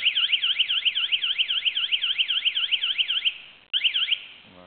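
Tamper alarm on a Tike Securite MN2009 door opening detector set off by pressing its button, a loud, rapid, warbling electronic beep that repeats, breaks briefly near the end, then resumes for a moment.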